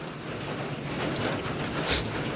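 Steady rain hissing down in a continuous wash of broadband noise, with a few slightly louder patters near the end; no voices.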